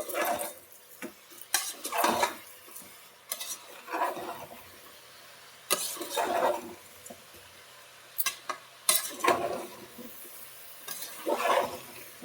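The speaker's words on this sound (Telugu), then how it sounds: "నేనైతే ఇలా రాళ్ళ ఉప్పు వేసుకొని బాగా మిక్స్ చేసుకుంటున్నాను" A spoon scrapes and stirs through a pan of village-style vegetable curry after rock salt goes in. The stirring comes in separate rhythmic strokes with soft clatters against the pot, and there is a faint sizzle underneath.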